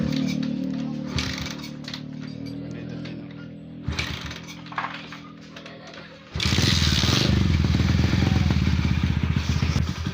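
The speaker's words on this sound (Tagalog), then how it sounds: "itesting naman natin pagpaandar kung okay na ba ang kanyang andar" Bajaj CT100 motorcycle after carburetor cleaning: mechanical cranking clatter and sputters, then the engine catches and runs at a loud, steady, close idle.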